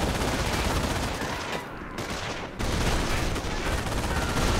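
Dense, continuous rifle and machine-gun fire from troops shooting from cover in Company of Heroes, a World War II Normandy landing battle, rattling loudly and steadily throughout with no talk.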